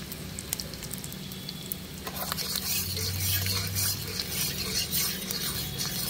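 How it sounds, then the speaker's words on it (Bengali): Chopped garlic and ginger frying in hot oil for an egg tadka: a steady sizzle with scraping stirs, growing louder and busier partway through as fresh ingredients go into the pan. "একটু রসুন কুচিটা একটু ভাজা ভাজা হয়ে গেছে, এবারে নিয়ে নেব আদা কুচি"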